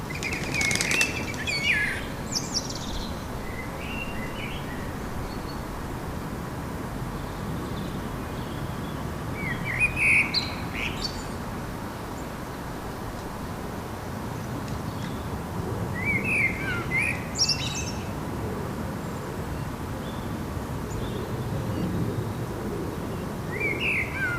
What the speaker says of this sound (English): The wood pigeon's noisy landing doesn't put it off eating.